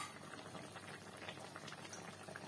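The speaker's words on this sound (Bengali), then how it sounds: "তো ফুটে আসুক" A pot of silver fish curry with taro stems in mustard oil boils at close range, giving a steady, dense bubbling and gurgling with no talk over it.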